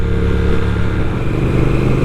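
Triumph Speed Twin motorcycle engine running steadily up close, a loud, even, throbbing exhaust note with a constant low pulse and no voices.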